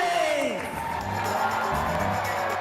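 A crowd of over 100 people cheers and whoops loudly and continuously at Jerry Demings' governor campaign rally in Florida, with the noise held steady from start to end.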